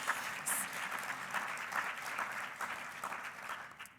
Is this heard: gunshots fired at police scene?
no